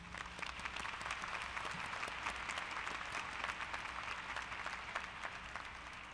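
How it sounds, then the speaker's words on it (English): Audience applause at a university fall commencement ceremony, a steady, even patter of many hands clapping, somewhat distant and fairly quiet, sustained throughout. "Let's give them a round of applause."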